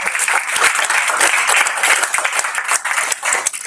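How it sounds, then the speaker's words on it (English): A short burst of audience applause at a live training event, many hands clapping together in a dense, fairly loud wash that wavers slightly as it continues. "So let's give her a round of applause."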